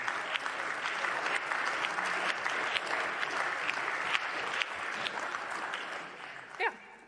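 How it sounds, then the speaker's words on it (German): Sustained applause in a German state parliament, a steady dense patter of many hands clapping for several seconds, with a few sharper claps and a brief voice near the end. "Applaus"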